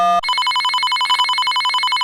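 A telephone rings with a loud electronic bell trill, rapid and steady, close up and alone after a brief lead-in tone, then it cuts off sharply.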